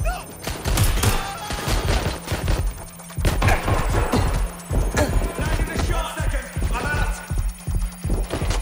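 Dense bursts of gunfire in Watch Dogs Legion, rapid overlapping shots and automatic fire throbbing close and loud, with a shouted voice over the steady din of battle.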